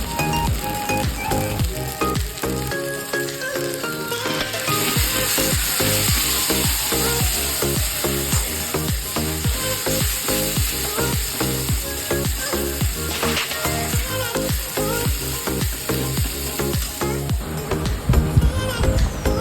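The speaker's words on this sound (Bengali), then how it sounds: "এবারে ভালো করে মশলাটাকে একসাথে ভেজে নেব" Spice paste for khichuri sizzles and fries in a pan, with a loud, steady crackle and repeated scraping and stirring strokes throughout, and no talking.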